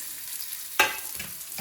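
Roasted gram and cashew nuts sizzling in a pan, a soft steady fry with a sharp scrape or toss midway and a few lighter stirring scuffs after, close and fairly quiet.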